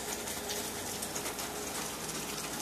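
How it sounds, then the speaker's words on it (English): Steady rain falls outdoors on a cool morning, a continuous even hiss of drops with no talking. "And it's raining."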